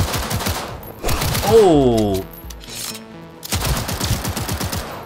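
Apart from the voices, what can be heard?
automatic pistol gunfire in the video game Cyberpunk 2077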